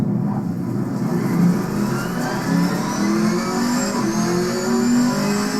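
GT4 race car engine in Assetto Corsa Competizione on PS5, revving and shifting steadily through gears at a constant loud level, with no talk.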